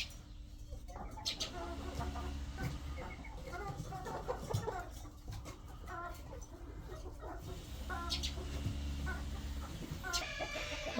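Chickens cluck repeatedly at a poultry sale of Uxayli and Russian breeds in Kokand. The soft, scattered calls carry over quiet background murmur.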